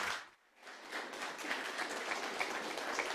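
Audience applause for panelists at a women's empowerment summit, steady diffuse clapping from a crowd after a short quiet dip, heard at a distance and fairly faint.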